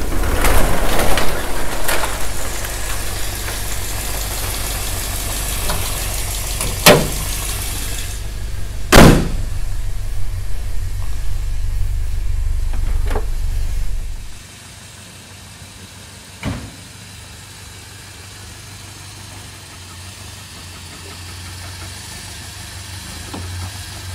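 A 1972 Lancia Fulvia engine idling steadily at close range with a low rumble, broken by a couple of thuds like door slams, then cutting out to a quiet garage with faint sounds.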